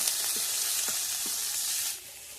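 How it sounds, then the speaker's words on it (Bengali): Chopped onions and green chillies fry in mustard oil in a kadai, a loud, continuous close sizzle with a few soft stirring scrapes, easing slightly toward the end, no voices. "পেঁয়াজগুলো লাল লাল করে ভেজে নেব"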